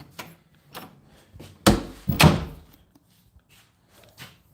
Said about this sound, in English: she heard that door open